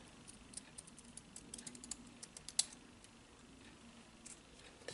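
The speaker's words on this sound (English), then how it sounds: "Trim that off a little bit more." Scissors trim card paper for a handmade birthday card, giving a quiet run of small, crisp snips and clicks close up, with one sharper cut near the middle and no voices.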